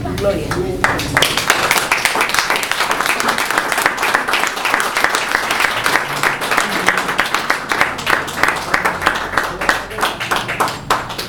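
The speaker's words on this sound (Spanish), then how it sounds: "Un aplauso." A church congregation claps in a long burst of applause, individual hand claps clearly audible in an uneven rhythm, loud and close, with a voice briefly heard at the start.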